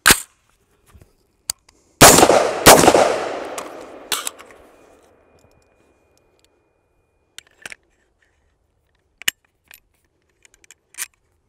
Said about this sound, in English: Way of demonstration, put a couple rounds, throw the suppressor on, a couple more rounds.